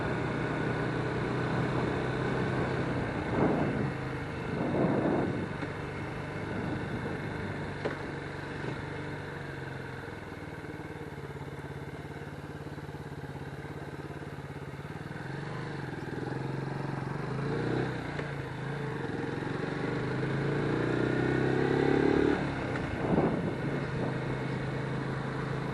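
A Lifan KP Mini 150 motorcycle runs on the road, its engine a steady, moderately loud drone that rises and falls slightly in pitch beneath a constant rush of wind.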